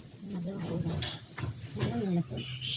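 Crickets on a cricket farm chirp in a steady high-pitched drone that runs throughout, while a person talks over them at close range.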